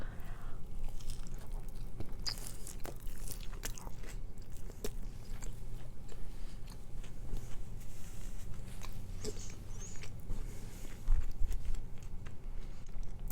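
Close, wet chewing of leftover carnitas fries, with soft repeated bites and mouth squishes going on steadily and fairly quietly, and a slightly louder burst near the end.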